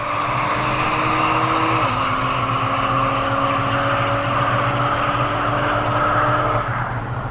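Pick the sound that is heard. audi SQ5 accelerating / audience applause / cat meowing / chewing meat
audi SQ5 accelerating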